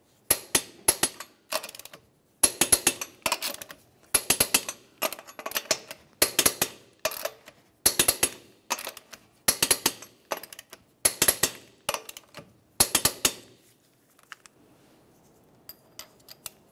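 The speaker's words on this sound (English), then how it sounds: "we'll continue on torquing these in a crisscross manner to 135 foot-pounds" Torque wrench tightening lug nuts on a 1994-2002 Dodge Ram 2500 wheel to 135 foot-pounds in a crisscross pattern, close sharp repeated clicking bursts in rapid groups, then quiet, no speech.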